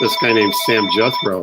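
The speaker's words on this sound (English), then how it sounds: "That's my phone." A phone rings during a sports talk show, a steady electronic tone holding throughout while several people keep talking over it.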